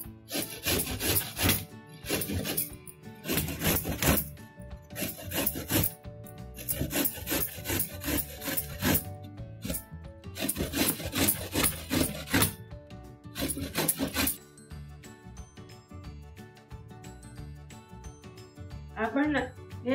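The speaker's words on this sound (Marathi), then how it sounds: "किसून सुपारी करायची आहे पहिले आपल्याला, तर त्यासाठी आपण आवळे किसूया।" Indian gooseberries (amla) are rubbed over a hand grater for supari, loud rasping strokes in repeated bursts of several seconds with short pauses, up close. The grating stops near the end.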